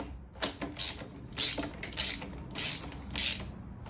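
A self-locking nut is tightened on a wheelchair wheel, giving close, quiet bursts of ratcheting clicks in short repeated strokes with brief pauses between.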